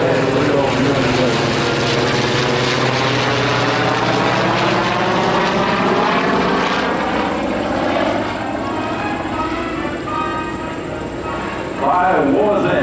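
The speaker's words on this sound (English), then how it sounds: "as the two F4Us, the F4U and the FG1D come overhead" Two Corsair propeller fighters, an F4U and an FG1D, roar overhead at an airshow: loud, sustained engine drone with sweeping pitch shifts as they pass, fading slightly before a swell near the end.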